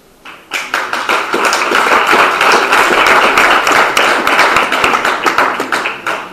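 Applause from an audience at a human rights conference session, many hands clapping densely and loudly for several seconds, swelling quickly and holding steady before thinning toward the end.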